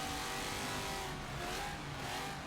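Race car engines in Forza Motorsport 7 drone in a steady, dense roar with a sustained high rev and faint tire noise, continuous throughout.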